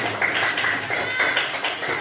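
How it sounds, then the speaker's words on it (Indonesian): A classroom of students clapping for a group presentation, a continuous, fairly loud rattle of hand claps through the whole moment. "kasih tepuk tangannya untuk kelompok kinestetik"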